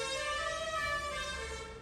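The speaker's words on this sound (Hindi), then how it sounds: "सॉरी इस हॉर्न के लिए" A long, sustained vehicle horn blares steadily, slightly distant, fading a little toward the end.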